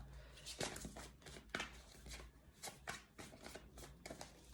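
A deck of tarot cards shuffled quickly by hand, with soft repeated riffling and slapping sounds at an uneven rhythm, close and quiet.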